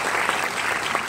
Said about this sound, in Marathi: या कलाकारांसाठी जोरदार टाळ्या